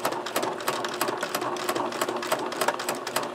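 Steady rapid needle clatter from a sewing machine pushing through thick layers of apron fabric, a continuous close mechanical rattle over a low motor hum.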